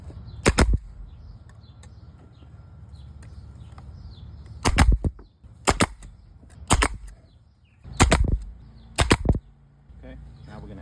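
A pneumatic nail gun fires into fence picket wood while the sides of a bird house are attached, giving six loud, sharp, close bangs with a pause between the first and the others, each shot followed by a brief rattle.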